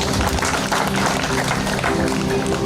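Congregation at a harvest thanksgiving church service breaking into applause, a dense continuous wash of clapping from many hands that stays loud and steady, with some voices mixed in.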